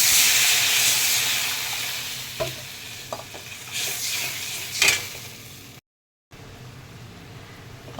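Turmeric and salt sautéing in a cooking pan for a curry base: a steady close hiss of frying broken by a few scraping stirs, then a sudden short silence before the sizzle resumes more quietly.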